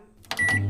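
An air fryer gives a single short electronic beep while pumpkin cookies for a dog are being made, a brief clear tone over a low steady hum.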